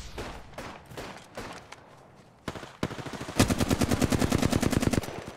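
Gunfire in Apex Legends: scattered single shots first, then a sustained rapid automatic burst, loud and close, with no talking.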